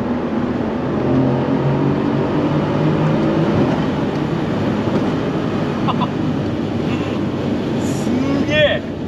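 Mercedes C63 tuned to 600 hp on an expressway, its engine roaring loudly and steadily under hard acceleration, with a driver talking over the drone and a brief rise near the end as it shifts down.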